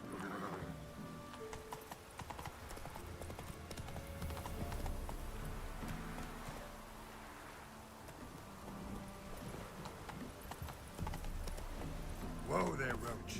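Hooves of Roach, the horse in The Witcher 3 video game, clip-clopping steadily with a whinny, while a voice talks over the hoofbeats and light rain patters in the background.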